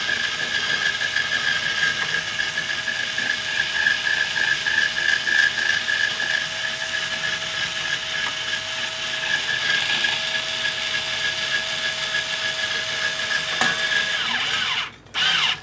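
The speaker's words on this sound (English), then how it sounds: "this is the second string winder that I've had from Ernie Ball" A steady mechanical whirring and ratcheting runs for about fifteen seconds, close and fairly loud, fitting an Ernie Ball guitar string winder being turned, cut off by a short gap near the end; no voices.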